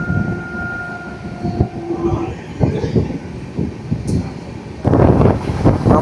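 A Himsagar Express train running at speed through open farmland, with a steady rumbling roll of wheels on rails, intermittent rattles and clunks, brief tonal squeals, and a louder surge of rattling near the end.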